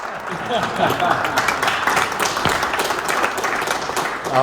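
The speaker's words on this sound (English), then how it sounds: "I'd like to have Elliot Hillback and Roberto Donato stand for a round of applause" A room of guests gives a round of applause to two people standing, honoured for bringing an Aston Martin DB4 convertible. The clapping is fairly loud and steady, with voices faintly mixed in.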